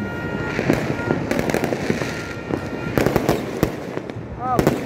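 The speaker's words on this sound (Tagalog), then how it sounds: "Lahat fireworks ang makikita mo sa kalangitan." New Year fireworks bursting over Manila, a dense run of sharp cracks and booms near and far, with crowd voices talking and cheering underneath throughout.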